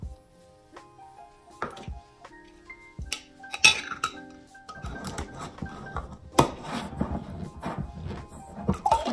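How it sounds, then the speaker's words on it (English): Plastic container of rice water with about ten drops of peppermint oil shaken by hand, giving a run of clattering knocks and rattles that grows denser and louder in the second half. "I shake mine up personally to make sure that all the rice has some type of peppermint over it or on it or something"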